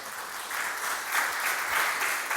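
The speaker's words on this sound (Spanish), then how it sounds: "¿No le da un aplauso de alabanza al Señor?" A church congregation claps in praise, a steady wash of applause from many hands that swells slightly midway and continues throughout at moderate volume.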